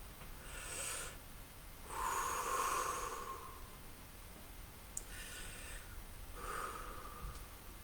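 Slow, deep conscious breaths drawn in and blown out through the mouth, several soft airy swells close to the microphone, separated by quiet pauses.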